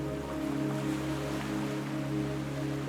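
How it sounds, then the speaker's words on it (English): Gentle ocean waves wash steadily along a coast, a continuous soft surf with an easy rolling texture and a low constant rumble beneath, with no voices present. "Waves rise and fall in an easy, steady rhythm, not loud, not forceful, just a gentle pulse"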